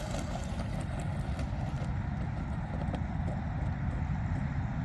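A Traxxas Mini Rally Ford RS200 RC rally car makes a high-speed pass, its motor and wheels a steady, loud broadband roar across the whole clip with no talking.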